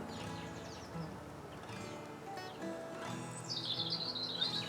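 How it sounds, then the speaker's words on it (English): Birds chirp and call outdoors from all around, a dense overlapping chorus of tweets that grows brighter and busier toward the end, with no voices. "distracted by the birds that are coming from everywhere here"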